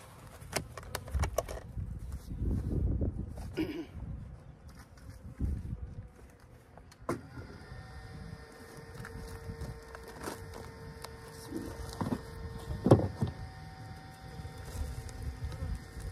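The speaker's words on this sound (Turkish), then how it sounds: "Sonra kovanımızı açıyoruz." Honeybees at an opened spring hive during a transfer to a new box make a continuous buzzing hum, close and fairly loud, with some wooden knocks and scrapes of frames mixed in.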